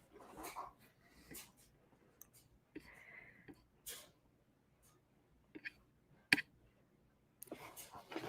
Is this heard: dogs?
yes